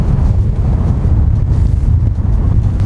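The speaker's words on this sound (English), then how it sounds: "It's crazy windy." Loud, steady wind in southern Utah buffets the microphone, a constant low roaring rumble with no voices.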